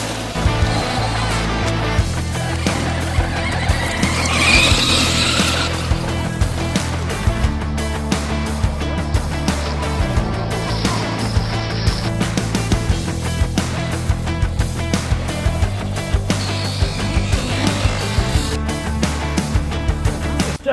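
A vintage RadioShack Trespasser dual-motor RC truck drives with a loud, steady electric motor whine and gear buzz, rising and falling with throttle changes, with no voices.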